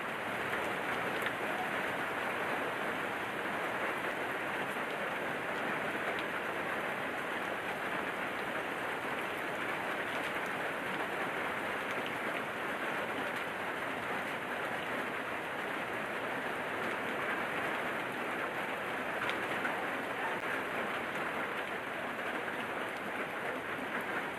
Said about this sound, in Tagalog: medyo umina na yung ulan pero madilim pa rin